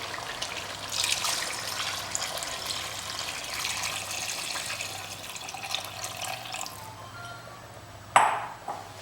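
Two to two and a half glasses of water pour into a well-fried Rajasthani boti masala in a steady, splashing rush, ending in a sharp clink.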